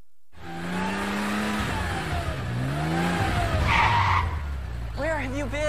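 A car's tires skid and squeal during fast driving, with long pitched screeches sweeping up and down over engine noise and a loud, close, steady roar throughout.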